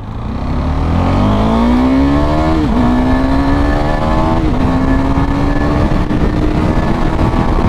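A KTM Duke motorcycle on a test ride accelerates hard, its engine note climbing steadily through two gear changes, loud and close, with no talk over it.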